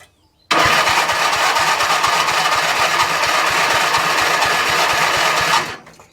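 A vehicle engine turns over and catches after a Topdon JS1200 jump start on a flat battery, then settles into a loud, steady idle with an even low throb before cutting off near the end.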